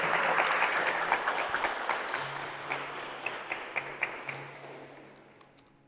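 Church congregation applauding together during a sermon, a full sustained round of clapping that slowly tapers off, with a few last scattered claps near the end.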